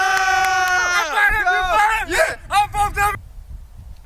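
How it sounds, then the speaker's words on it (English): A loud stadium crowd roars and yells in a football movie scene, dense overlapping shouts and whoops swelling in waves before cutting off abruptly into near silence. "very loud sound effects from the crowd"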